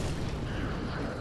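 Handmaidens in Dark Souls shoot a burst of fire: a dense, loud, roaring whoosh that fills the whole moment steadily, with no clear start or end and no voices over it.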